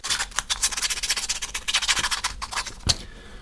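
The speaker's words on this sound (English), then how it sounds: "now it is time to actually give these lures a good sanding" Rapid, rhythmic scratchy rubbing of sandpaper on wooden fishing lures, sped-up strokes coming close and fairly loud with no voices.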